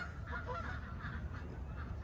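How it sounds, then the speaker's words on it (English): Geese honk in repeated nasal calls at a farm pond, somewhat distant and faint, with a steady hiss of outdoor background beneath them. "We got some visitors today, little geese up there"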